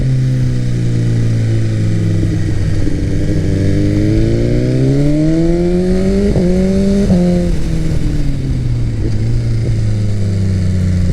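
A BMW S1000RR sport motorcycle engine revs up and down steadily, its pitch climbing and dropping through smooth quickshifter gear changes, loud and close throughout.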